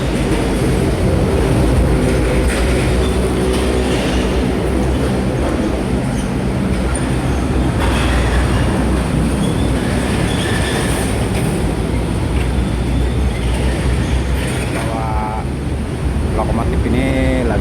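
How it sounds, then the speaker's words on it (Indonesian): Locomotive moving at Tanjung Priok port after arriving from Sumatra, its steady loud rumble running throughout, with wheels squealing in bursts late on. "Lokomotif ini lagi diparkir menuju ke dekat kren ya"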